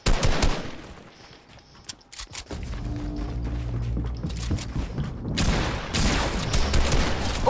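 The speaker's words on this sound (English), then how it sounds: "There's somebody shooting at us over here." Rapid gunfire in the video game Fortnite, with dense bursts of shots and mechanical clatter, loud and close, a brief lull, then sustained firing and booms with no speech.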